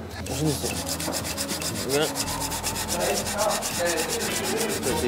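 Ash wood being sanded by hand, a steady rasping rub with a fast repeating back-and-forth stroke, close and loud throughout without pause.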